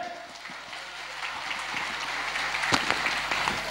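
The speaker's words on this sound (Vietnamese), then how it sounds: "một lần nữa cho một tràng vỗ tay cho Trọng Nghĩa" An audience breaks into applause for a young street singer on stage, a steady wash of clapping that swells slightly toward the end, with no talk over it.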